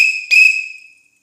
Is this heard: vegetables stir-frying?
no